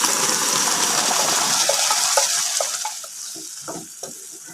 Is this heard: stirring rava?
yes